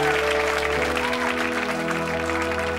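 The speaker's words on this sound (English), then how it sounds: "Give them a round of applause, Mel and Sue." A studio audience on a comedy chat show breaks into loud, continuous applause for Mel and Sue. The dense clapping carries over a steady background hum for a few seconds.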